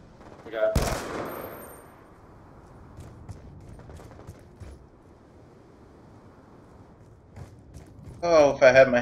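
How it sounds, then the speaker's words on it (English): Video game gunfire rings out in an online shooter with the M8A1 weapon, first a sharp close burst, then scattered distant shots, and a louder rattling volley at the end, while a player talks over it. "Hearing gunfire to the left of our original spawn."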